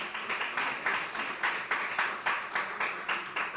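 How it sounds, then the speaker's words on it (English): An audience at a civic event honoring a community elder claps in a regular rhythmic beat, about three claps per second, moderately loud and unbroken. "please give him a round of applause"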